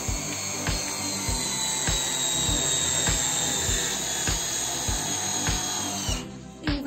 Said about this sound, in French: Et on va la visser à fleur.